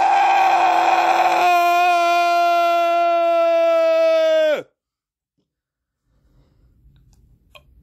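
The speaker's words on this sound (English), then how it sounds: "He has supersonic screams, dummy. Mutant howler monkey." A mutant howler monkey lets out a supersonic scream, a loud, sustained piercing shriek that starts ragged, then holds a steady tone for several seconds before sliding sharply down and cutting off into near silence with faint noise after.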